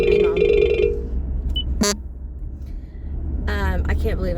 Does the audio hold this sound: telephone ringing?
yes